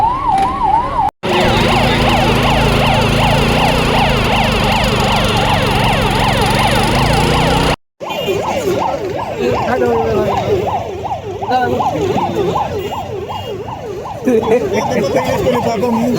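A loud ambulance siren wails in a steady rising-and-falling cycle during a mock emergency drill in Nandyal, cuts out briefly, then keeps wailing a little more distantly over traffic noise.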